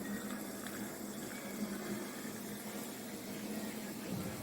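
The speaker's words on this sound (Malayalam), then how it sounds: "ആവശ്യത്തിന് ലെമൺ സ്ലൈസസ് ഇട്ട ശേഷം നമുക്ക് സോഡ ഒഴിച്ചു കൊടുക്കാം" Soda poured over curaçao syrup and lemon slices for a blue lagoon mocktail, giving a steady, close fizzing pour that hisses evenly with no talking.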